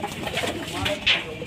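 A pigeon coos softly and briefly, close by, among other pigeons kept for pigeon fights in Hyderabad, with a voice talking over the cooing.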